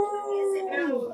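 A pet dog howls indoors in one sustained, wavering tone that bends downward at the end, close and fairly loud.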